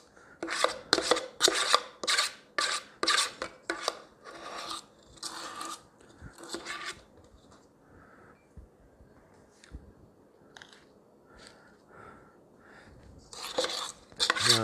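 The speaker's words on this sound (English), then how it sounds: "I'm scraping the bowl here" A spatula scrapes keto chocolate muffin batter around a bowl in a run of quick, rhythmic strokes, then softer and sparser scraping, with a few louder strokes at the end.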